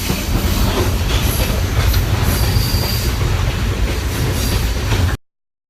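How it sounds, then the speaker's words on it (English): Rails rumble and clatter continuously as a train rolls along the Hiwassee River rail loop in Tennessee, with faint squeals and a steady, loud roar that cuts off abruptly. "It's a train ride."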